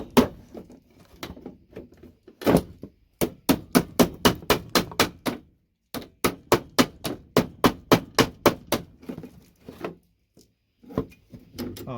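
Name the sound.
hammering on VGA connectors for gold recovery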